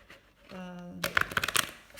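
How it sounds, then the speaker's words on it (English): Tarot cards being shuffled by hand, a burst of crisp riffling clicks and flutters up close after a brief moment of speech. "I'm just going to shuffle a little"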